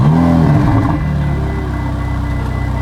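A Ferrari 488 engine on a cold start revs loudly at the start, then drops back to a steady low idle that continues to the end.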